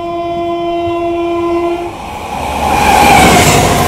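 A passenger express train, the New Delhi–Gaya Mahabodhi Express, crossing another train: a loud sustained horn blast for about two seconds, then a rising roar and rush of the passing train, close and dominant.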